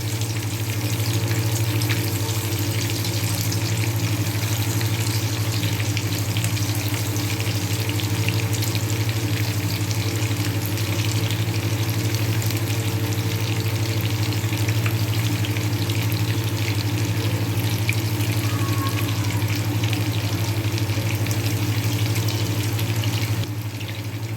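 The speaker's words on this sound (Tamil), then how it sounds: "இப்போ வந்து நம்ம எண்ணெய் காய வச்சுட்டோம் மீன் லாலிபப் ஒன்று ஒன்றா நம்ம வந்து போட்டு எடுத்துக்கலாம்" Frozen fish lollipops frying in hot oil make a continuous, even sizzle and crackle over a low steady hum, holding at one level for the full length without speech.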